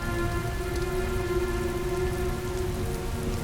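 Heavy rain pours steadily outdoors as a dense, even hiss with no breaks, loud and close, with no voices.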